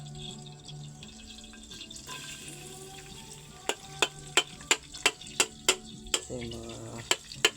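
Hot cooking oil fries food in a pan, a soft sizzle under a voice, followed by a run of sharp, evenly spaced ticks and pops near the end.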